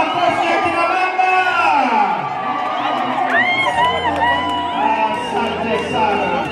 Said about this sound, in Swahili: Wape shangwe na vigelegele akina mama, wapi makofi akina baba.